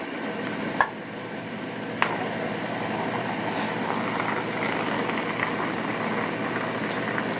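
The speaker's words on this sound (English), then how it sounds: "So I'm gonna stir it and cook it for about 10 minutes" Pork and mushrooms fry in a pan with a steady, close sizzling hiss, broken by two sharp clinks of a utensil stirring early on.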